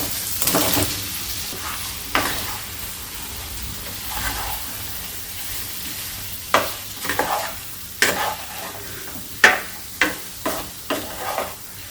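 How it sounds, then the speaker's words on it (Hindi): Baby potatoes and onions frying with masala in a pan, a continuous sizzle broken by a series of crisp, scraping stirring strokes that grow more frequent toward the end, close and fairly loud with no voices. "आलू प्याज डालकर हम 2 मिनट भूनेंगे इसके साथ, मसाले के साथ।"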